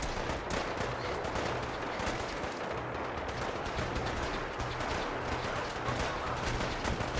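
Rapid gunfire from the video game Fallout 4 rattles continuously as a dense, loud barrage of overlapping shots with no clear gaps, mixed with battle noise and no talk.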